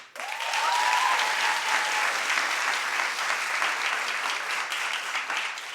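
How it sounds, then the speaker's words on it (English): Sustained applause from a crowd, steady and dense for several seconds, with a faint whistle-like tone near the start. "So clap if you think Chris should open the show."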